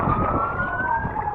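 A fire engine siren wails in one long falling tone over steady road traffic rumble, loud and close for a brief moment.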